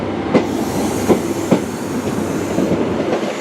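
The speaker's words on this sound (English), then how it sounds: "pulling out now is 1L492 in the name of the Atlantic Coast Express" A Great Western Railway passenger train pulls out of Liskeard station, wheels clacking over rail joints in a loose, repeated rhythm beneath a steady loud rumble, with no talk.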